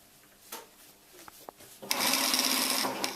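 A home sewing machine stitching down a seam on a pair of hot pants during an alteration; after a few soft clicks and taps, the motor whirs up into a steady, close, continuous run.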